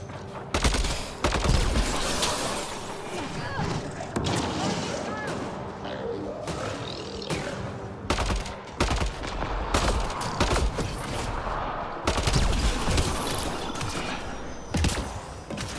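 Rapid bursts of gunfire from the sci-fi shooter Mass Effect Andromeda crackle through the scene as game combat, ongoing and fairly loud with a steady bed of action noise beneath, while a person talks over it.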